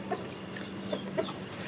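A white hen gives a few soft, scattered clucks against a quiet background, faint and spaced apart.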